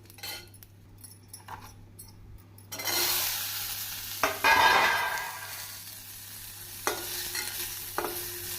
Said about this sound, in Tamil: ஜீரகம், சோம்பு, இவை பொரியவும் நாம் சின்ன வெங்காயத்தை சேர்க்க வேண்டும்